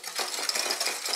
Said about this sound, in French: on va battre jusqu'à ce que ça blanchisse un peu